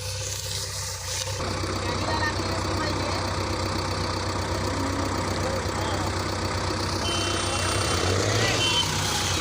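A JCB and several tractors straining together to pull a stuck sugarcane trolley: steady, loud low engine drone throughout, with reversing-beep-like tones and rising mechanical noise near the end.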